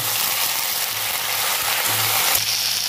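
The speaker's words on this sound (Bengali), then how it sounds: "আগে ফুলকপি পাতাগুলো দিয়ে দেবো, ভালো করে ভেজে নেবো।" Cauliflower leaves and onion fry in hot oil, a steady close hiss of sizzling that stays loud throughout, with a brief stirring scrape near the end and no voices.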